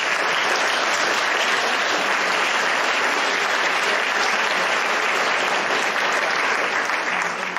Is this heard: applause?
yes